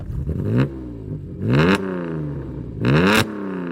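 A Toyota 2000GT's 2-litre straight-six engine revs up three times in sharp bursts, pitch climbing then dropping back to a steady idle between each blip, close and loud.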